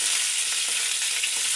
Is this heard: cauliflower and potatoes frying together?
yes